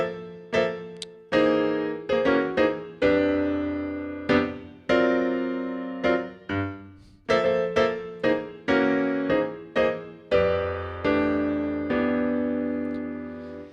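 Solo piano comping through a jazz chord progression voiced with upper structure triads, a series of loud struck chords, some quick clusters and others held to ring and decay, with no voices.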